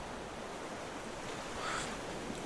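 Ocean surf washing steadily around a raft in the survival game Raft, a soft continuous wash of waves with a slight swell near the end and no voices.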